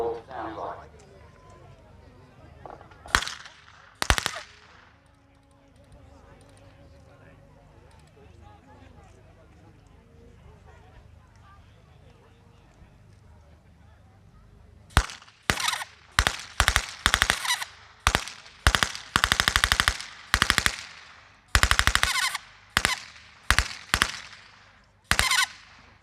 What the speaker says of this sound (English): Give you an idea of what the MG-34 sounds like.